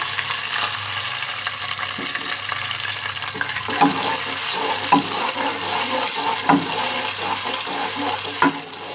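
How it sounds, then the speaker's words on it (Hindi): Water poured into a hot frying pan of cumin and garlic-ginger paste sets off a loud, steady sizzle and bubbling hiss, with a few utensil clinks and stirring scrapes nearby. "अब हम इसमें पानी डालेंगे।"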